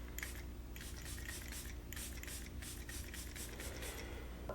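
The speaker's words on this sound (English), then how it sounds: "So just gonna spray some of this." Lisa Eldridge Skin and Makeup Enhancing Mist sprayed from a pump bottle, a series of quiet, quick misting spritzes in loose bursts over a faint background hum, with no speech.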